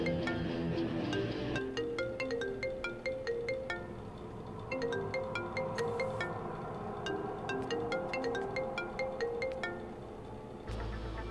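A mobile phone ringtone plays a bright, repeating melodic pattern of chiming notes, moderately loud and close, with no talking over it until it cuts off near the end.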